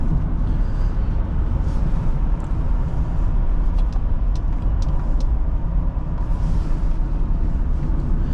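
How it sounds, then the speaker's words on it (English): A 2003 Acura TL 3.2 on the road, heard from inside as a steady broadband engine and road drone that stays loud and constant throughout, with no talk. "let's keep driving, get out onto the freeway, and do some more acceleration tests"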